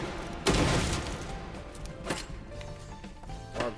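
Gunfire in a video game aimed at barbed wire, several sharp loud shots spaced unevenly over a few seconds, the first burst strongest, with quieter game noise between.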